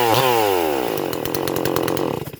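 An MS440 clone chainsaw running after a cold start, loud and close, its engine pitch dropping quickly from a high rev into a rough, uneven idle with a lumpy, pulsing rhythm.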